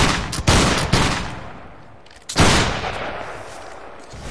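Ragged musket volleys from a Napoleonic Wars line battle in Mount & Blade, two loud crashing salvos of many overlapping shots, each trailing into a rolling echo, with scattered distant gunfire in between.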